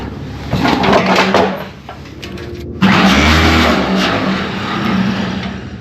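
An old Farmall H tractor engine cranks and catches, then revs with a loud, rough, uneven roar that surges midway and keeps running steadily, with no talking.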